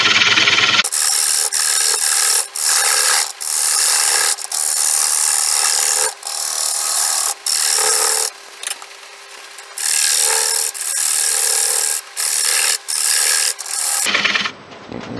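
A large ash wood bowl spins on a lathe while a gouge cuts in repeated bursts, a loud rough scraping that stops and restarts every second or so, close up, without talk.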